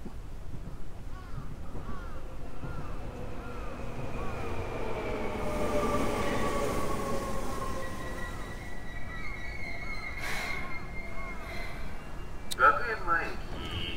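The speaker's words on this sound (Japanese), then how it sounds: "ほら電車来たし" A train in the video game School Days pulls into a station, its rumble steady throughout, with a rising whine of wheels and brakes and a sharp metallic squeal near the end.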